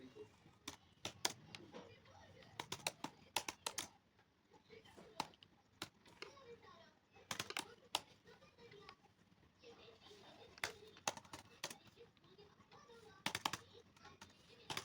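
Someone types an address into an online registration form on a computer keyboard, with bursts of quick, faint key clicks separated by pauses and soft talk in the background.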